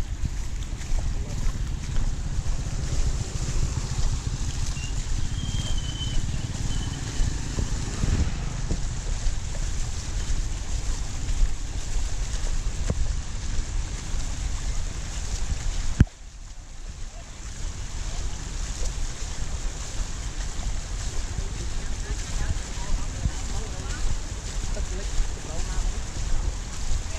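Strong floodwater rushing through a street in front of a housing borey in Cambodia, a steady broadband roar of flowing water mixed with wind buffeting the microphone, continuous and loud throughout with a brief dip partway.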